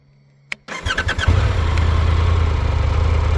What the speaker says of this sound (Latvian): Triumphs prasa, kad, lai piestartētu, ir jānospiež arī sajūgs.